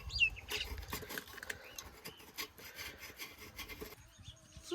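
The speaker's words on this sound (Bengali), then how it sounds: "খালাই না আমার গুড় কাইটা দিতেছে" A block of jaggery is cut and scraped with a knife in quiet, irregular rasping and rubbing strokes, faint and close, with no talking.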